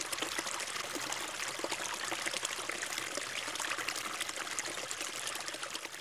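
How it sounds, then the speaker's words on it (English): Reddish water of the Tinto River in the southeast of the Iberian Peninsula, in a former mining region, flowing and trickling in a continuous close, bright splashing rush that holds steady throughout with no voices. "This is the Tinto River, in the southeast of the Iberian Peninsula, 90 kilometers of reddish-colored waters"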